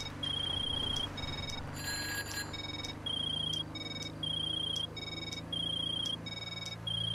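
A mobile phone ringtone in the video game GTA 5 Online repeats in regular electronic bursts over a low background hum, clear and steady, with no voices.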